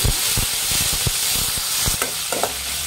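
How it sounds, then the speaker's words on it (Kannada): Green chillies and mint leaves fry in hot oil for a Kashmiri veg biryani, giving a steady close sizzle and hiss broken by several scraping stirs and clatters of a spoon in the pan, with no talking. "ಎಣ್ಣೆಯಲ್ಲಿ ಫ್ರೈ ಮಾಡಬೇಕು."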